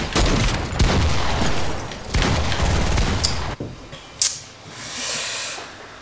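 Bursts of gunfire in a Fortnite team deathmatch, loud, dense and crackling for several seconds, then a lull with a sharp single crack and a soft hiss fading in toward the end.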